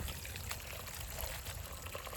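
Water pours and splashes steadily over farm-fresh coriander and mint as the herbs are rinsed of soil. It is a constant, moderately quiet rushing trickle with no talking.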